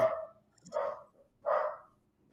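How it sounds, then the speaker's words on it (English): A dog barks three times in steady succession, moderately loud and fairly close, with quiet pauses between the woofs and no talking. "So I wonder what he ended up barking about."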